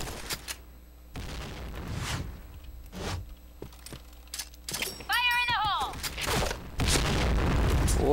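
FAMAS G2 rifle fire in the shooter game Point Blank, several sharp booming bursts spaced apart, mixed with in-game effects and a rising electronic chirp, fairly loud against a quieter background.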